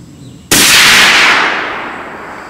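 A single loud gunshot from a Christensen Arms .300 Win Mag rifle at an accuracy range, a sharp close crack with a long rolling echo fading behind it.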